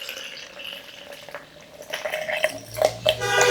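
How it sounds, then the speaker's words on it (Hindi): About 200 ml of water is poured into a protein shaker bottle. A soft, splashy trickle builds into a louder gurgling fill that grows stronger toward the end. "पानी इसमें मैं लूँगा 200 ml एप्रोक्स"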